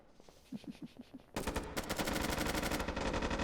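Rapid automatic gunfire and wall-bang shots from both sides in an esports video game grand final match, starting with a few soft thumps, then a loud, dense, continuous burst of repeated shots.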